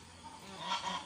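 A single short, faint goose honk after laying an egg, a brief nasal call rising out of quiet background.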